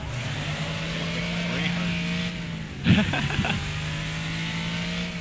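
A car engine drones and revs steadily in the Wreckfest demolition racing game, with a brief crunch of impact midway and a voice talking over it.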